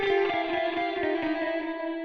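The BX Delay 2500 plugin applies its distortion effect at 100% mix, giving a dense, steady, buzzing tone with repeating pulses. It plays loud and alone for about two seconds.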